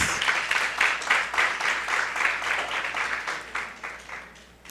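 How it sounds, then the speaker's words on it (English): A graduation ceremony audience at Bates Memorial High School breaks into warm applause, many hands clapping together in a dense, fluttering wash that fades toward the end, with no talk over it. "And I think that deserves a round of applause."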